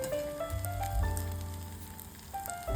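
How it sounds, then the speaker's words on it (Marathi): Sabudana fries frying in hot oil give a steady, soft sizzle with faint crackle. A background music tone runs throughout. "आता हे आपल्याला खरपूस तळून घ्यायचे आहेत दोन्ही बाजूने."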